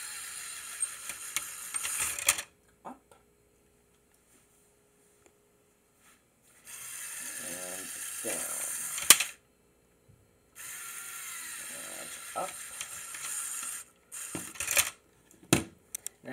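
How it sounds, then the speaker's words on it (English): A Lego Technic Power Functions large motor drives the convertible roof of a 1:8 Audi R8 Spyder model, whirring in several separate bursts of a few seconds each, with small plastic clicks and taps between them. "Convertible roof is also functional and powered by a power functions large motor."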